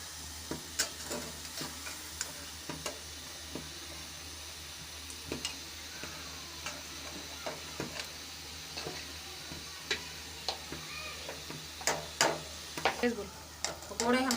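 Kari pakoras frying in hot oil, a steady soft sizzle broken by scattered clicks and taps of a utensil stirring and turning them, close by with quiet talk at times.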